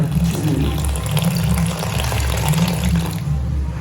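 Water pours steadily into dosa batter in a continuous splashing rush, fairly close and loud, with no talking.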